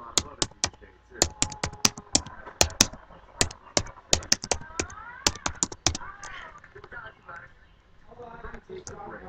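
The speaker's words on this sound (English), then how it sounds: "He's scratching my keyboard." A pet scratching and pawing at a computer keyboard, making sharp, irregular clicking taps in quick bursts, close and fairly loud, with a voice talking in the background.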